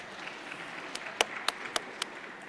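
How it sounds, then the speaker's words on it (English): A physics class audience gives short, light applause, a handful of distinct sharp claps spaced about a quarter second apart, soft and somewhat distant in a lecture room. "Thank you for the applause."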